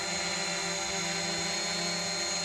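A DJI Mavic Pro drone lifts off and hovers close by, its steady high-pitched propeller whine loud and constant, with no talking.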